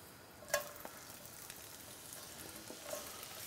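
Onions fry in hot clarified butter in a pan, a soft, faint, steady sizzle with a light clink of a utensil near the start, close by and without any voices.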